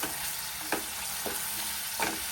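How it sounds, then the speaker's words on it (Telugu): Ginger garlic paste frying in oil for a capsicum masala curry, a continuous bright sizzle with a few soft stirring scrapes, close and steady, no talking. "అల్లం వెల్లుల్లిపాయ వేసుకొని అది ఫ్రై కాగానే పసుపు వేసుకోవాలి"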